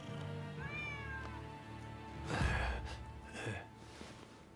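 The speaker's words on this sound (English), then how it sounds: "Who'd have thought a stray cat would wander in?" A stray cat meows in the video game Rise of Ronin, a few rising meows over a droning game score, with a louder breathy gasp and sigh sound in the middle.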